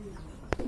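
A male Lahori pigeon gives a short, soft coo, close and quiet, over a low background hum.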